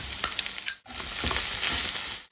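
Tomato paste goes into a pot of borscht and is stirred in, giving a close, soft sizzling and scraping after a few light knocks of a spoon against the pot.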